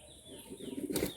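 A pigeon in a loft of Andhra, Madrasi and Giribaz breeds beats its wings in a quick close burst of flapping that builds and ends loudly.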